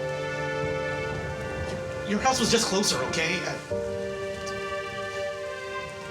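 Rain during a storm outside a house, a steady hiss under conversation, with a louder rushing burst in the middle that may be a gust or thunder before settling back to a constant patter.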